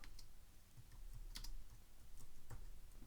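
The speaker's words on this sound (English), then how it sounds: "I'm just going to type in black and white" Keystrokes on a computer keyboard, a faint, quiet run of scattered clicks with a few sharper taps, no voices.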